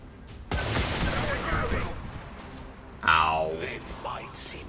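Micro missiles launching in the XCOM 2 video game, a burst of rapid rushing fire and whooshes followed by a second sharp swell, loud and close, with game voices around it.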